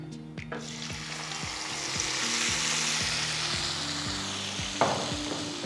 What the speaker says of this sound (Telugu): ఫ్లేమ్ లోలో పెట్టి పప్పుని మెల్లిగా దీంట్లో పోసుకుందాం